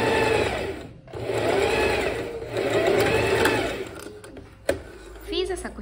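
A sewing machine stitches a rounded blouse neckline in steady continuous runs with a brief pause, while someone talks over it.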